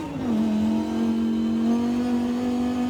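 A BMW engine in Forza Horizon 5, heard from the cockpit on a track, drops its pitch at the start and then holds a steady, loud, droning tone while cruising, with no voices.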